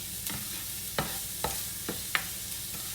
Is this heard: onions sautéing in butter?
yes